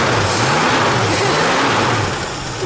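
A Ford Maverick V8 engine revs close by, its loud, rough roar rising and falling in a couple of swells before settling back toward idle.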